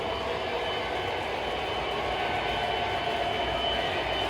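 An MTH model toy train runs steadily on its track, a continuous close rumbling whir with no pauses or talk.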